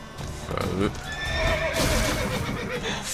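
In The Witcher 3: Wild Hunt, a horse whinnies and snorts amid clip-clopping hooves and busy game sound effects, close and fairly loud.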